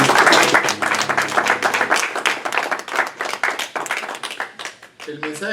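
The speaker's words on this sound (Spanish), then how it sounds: "Un aplauso al Señor." A church congregation at a Sunday morning service claps together in a loud, dense round of applause that carries steadily for several seconds, with voices mixed into the clapping.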